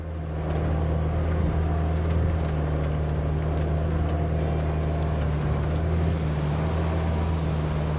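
Truck engine running hard in a steady, loud continuous roar with a strong low rumble, sustained for several seconds and heard alone.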